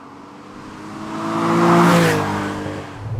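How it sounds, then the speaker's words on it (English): An old-style Porsche 911 Rennsport Evo S restomod set up for fast road use drives past with a loud, close engine note that swells to a peak midway and then fades, with a steady rumbling pitter-patter underneath. "You've got this constant pitter-patter that you do get with an old 911"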